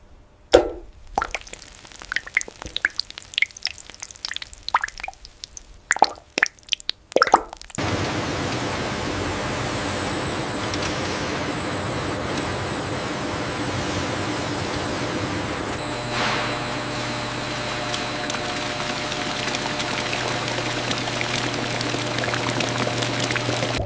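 Raspberry juice drips through a fine mesh filter that strains out seeds and pulp. Irregular close plops and drips come first, then give way to a continuous, even rushing wash of liquid.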